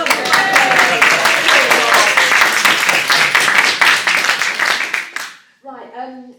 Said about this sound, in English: A round of applause for the club.